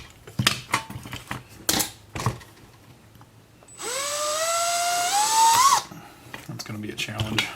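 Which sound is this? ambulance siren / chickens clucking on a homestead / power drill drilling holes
power drill drilling holes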